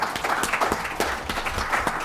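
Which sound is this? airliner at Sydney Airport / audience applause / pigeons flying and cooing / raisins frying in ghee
audience applause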